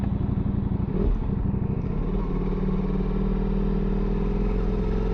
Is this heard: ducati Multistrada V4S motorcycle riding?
yes